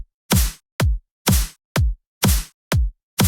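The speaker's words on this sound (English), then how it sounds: "now you get some really slappy snares" Punchy, slappy snare hits with a short chopped fade-in on each, seven sharp strikes in a bouncy alternating long-short pattern, loud and dry with no talking.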